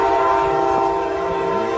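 A Brightline train sounds a loud, sustained, multi-tone horn close by as it passes, with rumbling rail noise underneath for the full stretch.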